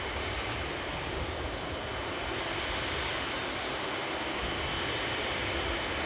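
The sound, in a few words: airliner taxiing past at an airport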